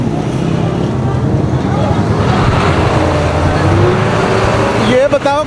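Dense road traffic on the GT Road, jammed behind parked chingchi rickshaws, roars steadily with engines droning close by, and a horn sounds near the end.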